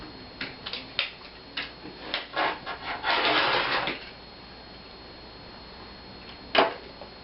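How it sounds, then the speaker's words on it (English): A rotary cutter rolls across pillow fabric on a cutting mat beside a ruler, making a series of short scraping strokes that build into one longer rasping pass, then a final sharp stroke after a pause. "we're going to actually cut our individual pillows right now"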